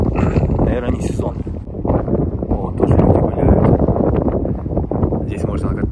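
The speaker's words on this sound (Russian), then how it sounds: "Попробовал, но здесь ветрено опять." Strong wind buffets the microphone on the Oregon Pacific coast, a loud, rough, gusting rumble that swells and dips continuously, with a voice talking faintly beneath it.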